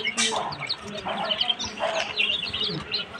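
Quails in a coop, eight females and two males, give repeated short chirps and calls close by, with bursts of chatter layered over soft rustling and background murmur.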